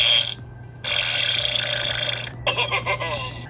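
A Zuru Smashers Ice Rex T-Rex toy plays its electronic burp sound, one long, loud, gurgling belch with a wet, bubbly ending and no talk over it.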